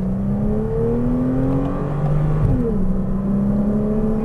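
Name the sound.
Porsche Cayman R engine accelerating on a race track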